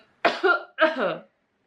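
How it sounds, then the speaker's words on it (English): Two quick, muffled coughs close by, each a short double burst, with silence around them. "Coughing into your elbow is the best way to cough"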